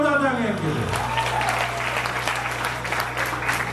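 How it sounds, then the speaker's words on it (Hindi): Audience at a live 2023 fashion show model hunt breaks into loud, sustained applause after a brief low tone at the start, with dense clapping filling the room and continuing steadily to the end. "एक बार जोरदार तालियां इनके लिए"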